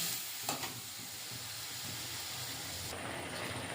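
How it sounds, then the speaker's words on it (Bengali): Water poured into a pan of vegetable curry made with mustard-cumin paste and potatoes, setting off a close, continuous steamy hiss and sizzle with a brief clatter near the start and no voices. "এবারে জল দিয়ে দেবো, দিয়ে ঢাকা দিয়ে দেবো।"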